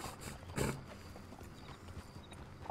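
Horses' hooves clip-clop at a walk in the Red Dead Redemption 2 world, a short burst of steady low thuds with one louder step near the start, then softer hoofbeats against faint background ambience.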